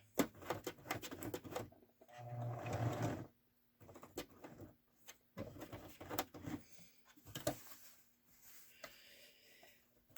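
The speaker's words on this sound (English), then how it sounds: "going to back stitch again" A sewing machine back stitches along the seams of an envelope cushion cover, running in short bursts of rapid mechanical stitching separated by brief pauses and handling noises.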